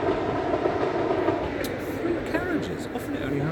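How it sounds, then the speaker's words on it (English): A three-carriage train on the Heart of Wales line rolls past steadily, with a continuous rumble and faint wheel squeal throughout. "once an hour train."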